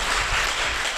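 Church congregation applauding, a dense steady wash of clapping from many hands that fills the whole short stretch at moderate loudness with no talk over it.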